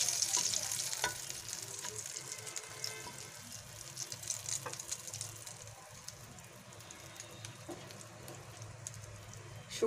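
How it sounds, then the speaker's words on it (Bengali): Whole cloves, a cinnamon stick and cardamom pods frying in oil in a pan for Bengali lau chingri, giving a steady close sizzle with scattered crackles and light stirring scrapes, no voices. "1টা লবঙ্গ, 1টা দারচিনি, 2টো এলাচ দিলাম। দিয়ে এটা ভালো করে আমি ভেজে নেব।"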